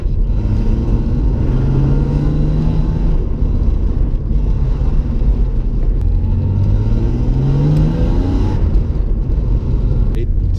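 A BMW E36 car engine running, a loud steady low rumble with rising and falling tones as the revs shift, heard close and continuous throughout.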